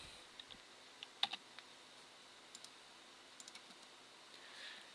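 Computer keyboard typing in a quiet room: a handful of faint, scattered key clicks spread unevenly over a few seconds, with no talking.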